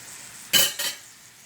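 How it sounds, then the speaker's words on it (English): Chopped vegetables sizzling in a hot pan while being sautéed for homemade vegetable soup: two quick bursts of frying crackle as they are stirred, then a soft steady hiss underneath. "Do you hear that sizzling?"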